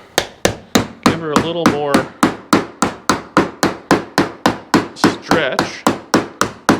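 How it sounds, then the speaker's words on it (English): A hammer strikes sheet metal in a rapid, even rhythm of about twenty sharp, loud blows, with someone speaking briefly between the strikes. "I'm going to hammer it again"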